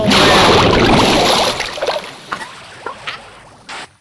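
Bass-boosted Minecraft water churns loudly as a thick, booming slosh that gradually fades into scattered gurgles and small splashes, ending with a short burst.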